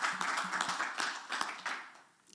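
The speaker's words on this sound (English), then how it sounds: "I hope you heard that applause, Martin." Audience applause at a COP27 conference panel on green transport, a dense spatter of clapping from a modest crowd that fades out over a couple of seconds.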